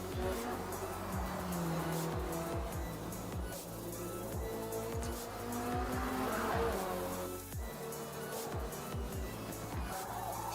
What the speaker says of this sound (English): can hear that Lancia